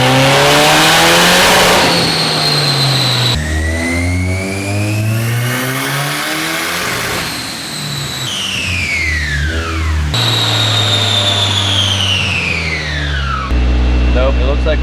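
A turbocharged KA-engine project car runs dyno pulls, its engine repeatedly rising in pitch through the revs, dropping back and climbing again in loud, close, sustained sweeps.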